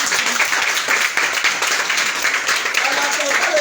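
A congregation claps continuously during a special Easter Passover worship service in Kara, Togo, with dense sustained applause filling the clip and voices mixed in beneath it.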